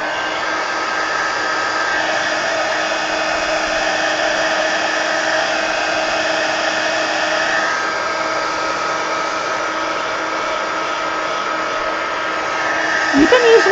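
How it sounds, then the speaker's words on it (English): A heat gun blows a steady, loud rush of hot air over a mixed-media art journal page, running continuously for the whole stretch before shutting off with a brief clunk at the end. "let me hit this with the heat gun first"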